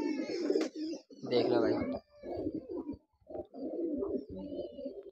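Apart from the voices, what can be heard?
pigeons cooing in a coop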